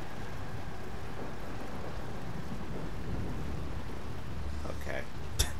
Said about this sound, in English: The rain isn't popping on the wood properly.